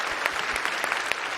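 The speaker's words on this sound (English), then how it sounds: "And keep that applause going for all the FX contestants." Dense clapping from a crowd at a TwitchCon 2019 cosplay contest fills the space, steady and sustained with sharp individual claps popping through.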